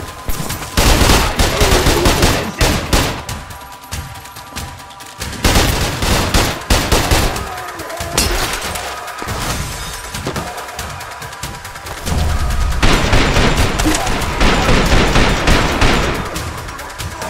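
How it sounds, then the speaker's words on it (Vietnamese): Loud, sustained gunfire from Trepang2, a video game, with dense automatic bursts and repeated shots running throughout, dipping briefly before surging again near the end. "À nó bắn ghê vậy."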